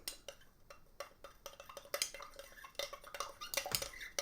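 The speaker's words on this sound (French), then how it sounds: "Donc, on va brasser." A lime juice mixture stirred with a utensil in a container, making faint, close, irregular clinks and scrapes in a loose rhythm, with no talking.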